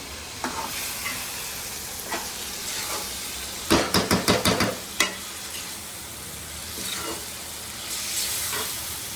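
Raw prawns for a gongura prawn curry sizzle in a pan while a spatula stirs them, with a quick run of about six sharp metallic scrapes and clacks in the middle and softer stirring before and after.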